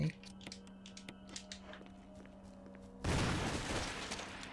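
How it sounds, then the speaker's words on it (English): A grenade launcher fires in the Resident Evil HD Remaster video game, one sudden loud blast with a noisy, rumbling tail that follows a few seconds of quiet game ambience and small clicks. "How about I try the grenade launcher?"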